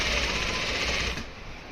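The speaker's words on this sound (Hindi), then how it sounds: "सीधे पे सिलाई लगा रहे हैं हम" A sewing machine runs straight stitching along pants fabric, a quick steady whirring chatter heard close up for about a second before it drops quieter, with no talking.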